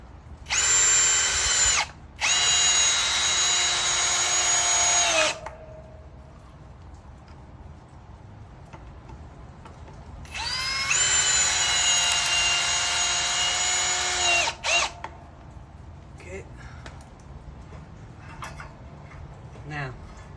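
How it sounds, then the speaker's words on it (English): A power drill drives screws into wood for a crawler suspension bridge: three loud, close whining bursts of a few seconds each, separated by quiet pauses with faint background noise. "Throw a couple more screws in here just for good measures."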